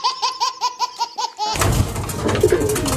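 Pigeons coo close by in a rhythmic series of soft throaty calls for the first half, followed by a dense, rustling flurry of bird noise and scattered calls.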